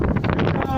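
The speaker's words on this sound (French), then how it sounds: "le vent qui se lève" Wind gusting across an outdoor gathering, a steady broadband rush with buffeting surges that swell and fade over a constant roar, loud and close to the microphone.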